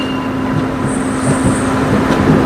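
Uday Express passenger train between Coimbatore and KSR Bengaluru rolling along the rails near Coimbatore junction, a steady close rumble with a constant hum and no talk.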